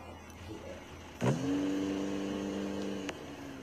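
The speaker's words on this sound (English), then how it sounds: "this is the car Granny drives into" In the video game Granny, a car engine abruptly starts and settles into a steady hum, then cuts off a couple of seconds later over quiet background ambience.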